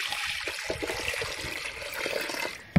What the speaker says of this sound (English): then I'm adding in water